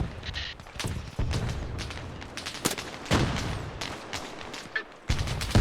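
Heavy gunfire in Arma Reforger: repeated loud shots and bursts crack at irregular intervals, some near and sharp, others heavier booms, with a steady rumble filling the gaps.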